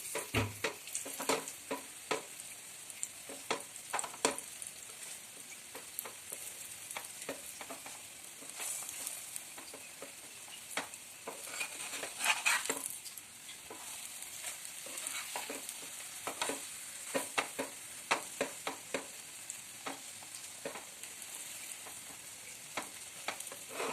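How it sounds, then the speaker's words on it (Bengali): A potato-stuffed aloo paratha fries in a pan with a steady, soft sizzle broken by frequent sharp crackles and pops. No voices. "এবার আমি আরেকটা পরোটা ভাজি ঠিক একইভাবে"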